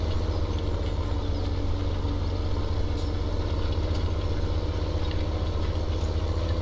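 Tractor engine hauling a cultivator in a farming game, a steady low rumbling drone that holds even throughout, with a couple of faint clicks.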